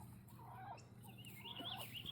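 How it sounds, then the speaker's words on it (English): A broody hen clucks and murmurs in a nest box in a backyard chicken coop, heard as faint, low, wavering calls over steady background hum, with no talking. "I hear a broody chicken."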